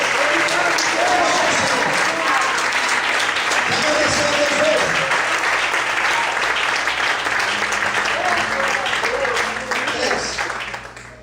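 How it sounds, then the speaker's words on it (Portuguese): A church congregation applauds to thank God during a Portuguese-language sermon, a long dense wash of clapping that stays full and steady for about ten seconds before fading, with a preacher's voice speaking over it. "Vamos para aplaudir o Senhor, dizer obrigado, Deus."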